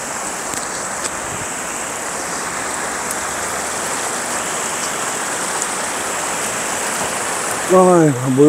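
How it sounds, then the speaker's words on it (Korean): Water flows in a steady, broad rushing wash that continues evenly throughout, with a short tonal voice-like sound rising over it right at the end. "물소리도 좋죠."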